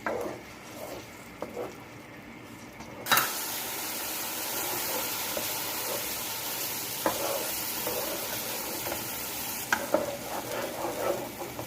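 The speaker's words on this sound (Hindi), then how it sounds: "ये देखिए, अब मैं भून रही हूँ इसे" Blended onions fry and are stirred in a pan, giving a steady, loud sizzle that rises sharply after a few seconds, with occasional scrapes and small knocks of the utensil.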